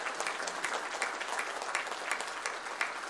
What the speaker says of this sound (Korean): 참가자들은 열렬한 축하의 박수를 터쳐 올렸습니다.